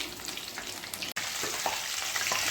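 Two pieces of Mumbai-style chicken 65 bubble in hot oil, a dense, steady crackling sizzle close by, broken by one brief dropout midway, with no voices.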